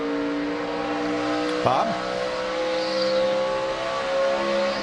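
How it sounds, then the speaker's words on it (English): A NASCAR Sprint Cup race car at Phoenix practice gets hard throttle, its engine droning and rising in pitch under a broadcast commentator's voice, with a brief whoosh partway through. "you hear her pick up the throttle really hard right there"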